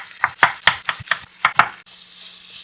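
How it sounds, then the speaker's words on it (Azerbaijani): A knife chops peeled tomatoes on a cutting board in about eight sharp, quick strikes, each close and distinct, before giving way to a soft hiss. "Pomidorları da xırdalayıram."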